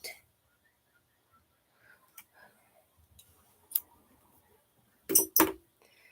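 A couple of sharp snips from scissors cutting yarn near the end, preceded by faint rustles and small clicks in an otherwise quiet space.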